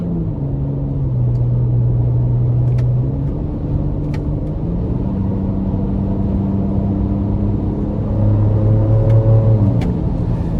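A 2025 Ford Ranger Raptor with a 3-liter EcoBoost engine accelerates hard from inside the cab, its engine note climbing and dropping through several paddle-shifted gear changes, loud and close with no talk.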